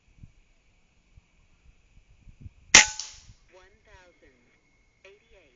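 A slug fired from a 31.2 Approximator air rifle at a mongoose about 45 yards off gives one sharp, loud crack, then a short ringing tail and faint rustling.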